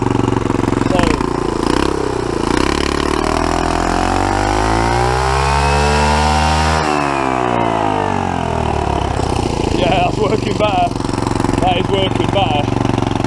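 A turbocharged scooter engine running without an air filter revs up in a long rising sweep to a peak, then falls back, loud and close throughout, with a voice speaking briefly.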